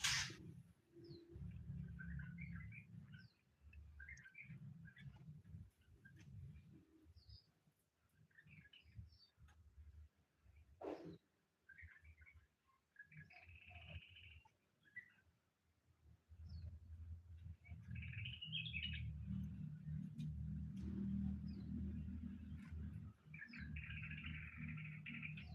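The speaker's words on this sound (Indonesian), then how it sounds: "Ada burung jalak Bali, ada cucak hijau" Bali starlings and green leafbirds call in an aviary with repeated chirps and whistles over a steady low hum of background noise, plus one sharp knock partway through.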